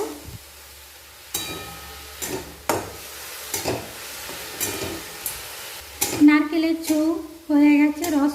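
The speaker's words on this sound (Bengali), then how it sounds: "এইভাবে নাড়াচাড়া করে নারকেলের ছৌ তৈরি করে নেব" Grated coconut cooking with date palm jaggery in a kadai, heard as intermittent spatula scrapes and soft sizzling at close range, with a few tonal sounds near the end.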